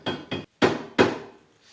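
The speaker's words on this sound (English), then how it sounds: "All I'm doing here is just tapping." A hammer taps a swing arm bearing into place on a Suzuki Intruder VS1400 motorcycle, giving four close, crisp metallic knocks in an uneven rhythm, the last two heavier and ringing out briefly.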